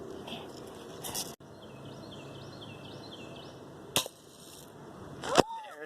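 A BB gun fires at an egg target outdoors, giving a few sharp, brief cracks spread apart, the last one loudest, over a soft background with faint bird chirps.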